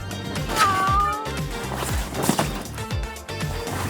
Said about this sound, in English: But this time, we're going with cats.